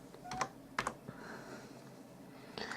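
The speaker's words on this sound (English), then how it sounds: "And I'm going to type in backup," Keystrokes on a computer keyboard as a word is typed into a search box, a few short clusters of clicks with gaps between them, quiet and close.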